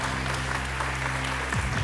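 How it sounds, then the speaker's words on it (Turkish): An audience claps steadily for a Quran recitation contestant, a dense, even burst of applause heard close up for about two seconds. "Bir kez daha kendilerini alkışlıyor ve uğurluyoruz efendim"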